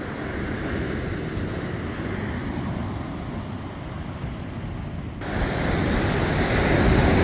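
Strong ocean surf rolls steadily onto a beach as the tide comes in, a loud continuous wash that swells near the end, with some wind buffeting the microphone and no voices.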